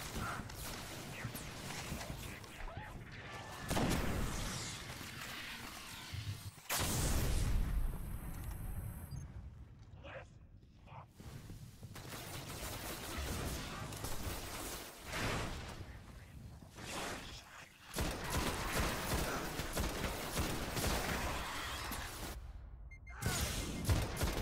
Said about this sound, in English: I can see they're being shot by the two on the right side.